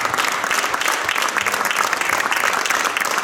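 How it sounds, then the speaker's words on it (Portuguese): An assembly audience at an anniversary celebration applauds, a continuous dense patter of many hands clapping, loud and even from start to finish, with no speech over it. "eu queria uma salva de palmas"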